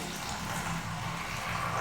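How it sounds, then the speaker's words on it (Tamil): Water runs steadily into a container from a tap while preparing a fresh hair-growth juice, a continuous, fairly quiet splashing hiss that lasts throughout without a break. "இதில் கொஞ்சம் தண்ணி பிடிச்சிக்கலாம்."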